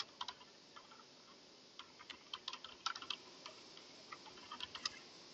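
Someone types on a computer keyboard, making quiet, irregular clusters of crisp key clicks with short pauses between them, heard alone in a still room.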